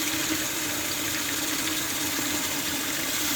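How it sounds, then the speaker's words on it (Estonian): Tap water runs in a strong, steady gush while cleaning silver jewelry with washing powder, loud and close, an unbroken broadband rush with no pauses. "Ja nüüd ma panen vee jooksma natukene külmema."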